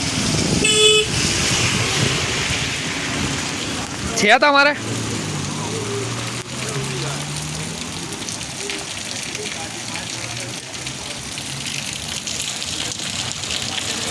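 Heavy rain driven by strong wind in Nadiad, a steady broadband roar and wash throughout, with people talking over it and a brief vehicle horn sounding near the start.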